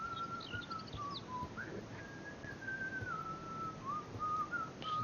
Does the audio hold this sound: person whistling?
yes